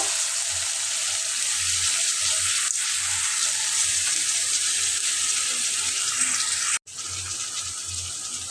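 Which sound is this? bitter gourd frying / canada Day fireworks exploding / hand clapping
bitter gourd frying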